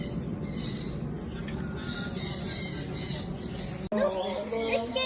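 Birds squawking in a zoo cage, a continuous chorus of harsh calls with denser, closer squawks toward the end over steady background noise.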